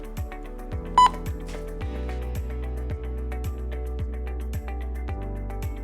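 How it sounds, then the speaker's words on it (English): An alarm dialer unit gives one short beep over a steady, rhythmic mechanical pulsing hum that repeats about once a second. "You will hear the dialer beep."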